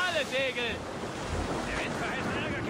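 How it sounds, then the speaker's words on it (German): Stormy sea waves and gusting wind on a sailing ship in Assassin's Creed Rogue, heard as a continuous rushing roar with voices briefly over it. "Stürmische See."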